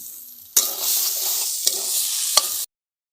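Sweet coconut and semolina filling with milk and sugared coconut is stirred in a pan, a close, steady scraping sizzle lasting about two seconds with a couple of sharper spoon knocks, then abrupt silence.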